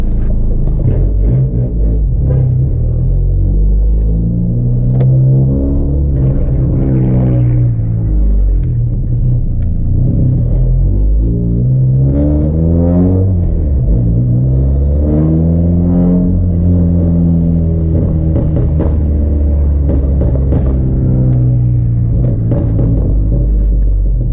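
A 2018 Honda Accord with a newly replaced clutch drives under load, its engine droning loudly and rising and falling in pitch as it accelerates through the gears, with steady road rumble throughout.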